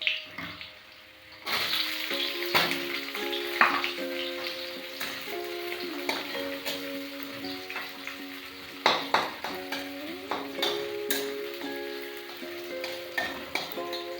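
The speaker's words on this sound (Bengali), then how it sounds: "রসুনটা হালকা লাল হলে আমি পেঁয়াজটা দিয়ে দেবো।" Garlic and onion frying in oil in a pan, with a steady crackling sizzle, scattered stirring clinks and scrapes, and loud, close spatters throughout, no talking.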